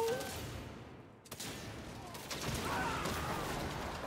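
Plasma shotgun in the Saints Row (2022) video game fires a few sharp, crackling blasts over busy game noise, one standing out clearly partway through.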